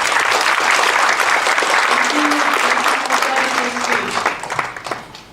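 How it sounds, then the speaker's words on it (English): An audience applauds after a talk at a speaking event, a dense, loud wash of clapping that holds steady and then thins and fades toward the end. "please a big clap again for Mr. Sonia."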